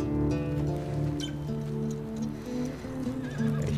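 Horses in the video game The Last of Us Part II whinny and neigh over a steady hoof clip-clop, a close, continuous loop of animal calls and trotting with no talk.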